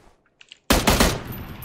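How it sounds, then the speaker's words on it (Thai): Gunfire in a video game, a sudden loud burst of rapid automatic shots that breaks in after near silence and then decays into echoing noise, with no talk over it. "เสียงปืนได้ยินแล้วสนั่น"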